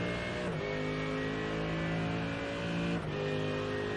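Two supercars racing closely together at the start of a stint in a six-hour endurance event, engines holding a loud, steady drone with two brief dips as they shift or lift, no talk.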